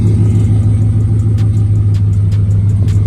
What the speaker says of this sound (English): Let's go ahead and rev it up.